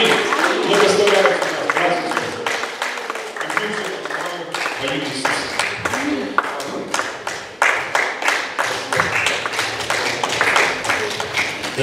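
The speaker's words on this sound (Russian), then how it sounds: "Аплодисменты Отцу, Сыну, Святому Духу, Богу нашему." A church congregation claps together in a steady, fairly loud run of sharp beats, the claps growing more rhythmic and evenly spaced toward the end, with voices mixed in beneath.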